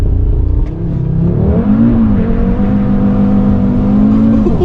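A tuned 2019 Audi RS3 launches hard, its engine revving loud and close as the wheels spin through first and second gear, the pitch climbing, dipping at the shift and climbing again.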